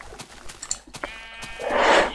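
Sheep bleating in a video game, several short cries with a louder, fuller bleat near the end, standing alone over faint background noise.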